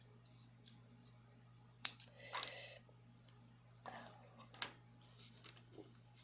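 Several short, crisp snips of scissors cutting paper for craft gift tags, close and quiet, spaced irregularly against a low steady hum.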